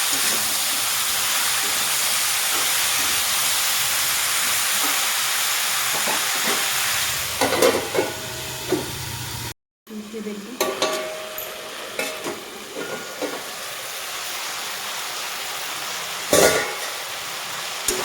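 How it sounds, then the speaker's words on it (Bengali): Spices and mixed vegetables with fish head stirred and frying in a pan, with a steady loud sizzle, a brief break, then scraping stirs and sizzling again. "তো ভালোভাবে নাড়িয়ে করে নেব মশলাটাকে"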